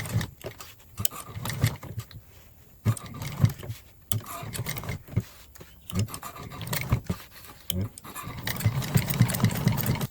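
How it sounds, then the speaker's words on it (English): A home sewing machine stitches a curve in a travel sling, its motor whirring in short bursts separated by brief pauses as the fabric is turned, fairly close and at moderate volume. "I'm going to start here so that I can demonstrate sewing in a curve"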